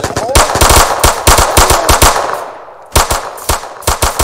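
Video game gunfire in rapid automatic bursts, loud and close, broken by a brief pause before the firing resumes.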